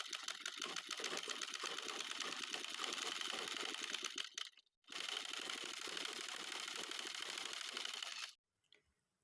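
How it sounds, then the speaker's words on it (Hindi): A sewing machine stitches the side seam of a kurti in a steady, close whirring run, stops briefly, then runs again before falling silent. "उसके बाद मैं बिल्कुल साइड में सिलाई लगाऊंगी"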